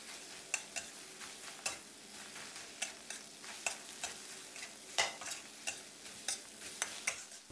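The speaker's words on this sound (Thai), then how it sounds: "ให้เราผัดคลุกเคล้าให้เข้ากันนะครับ" Cooked rice with set egg is stir-fried in a pan for crab fried rice: a quiet sizzle under repeated scraping and tapping of a spatula, about two strokes a second, close and without talk.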